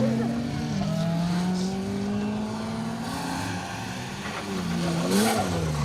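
A Peugeot 205 GTI rally car on a Welsh rally stage flies over a jump, its engine note rising and falling in sustained revs, a fresh surge of throttle near the end, with a voice talking over it.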